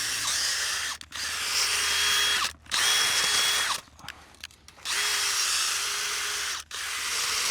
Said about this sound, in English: Reverse the drill. Push all that back in there. Put the drill back forward.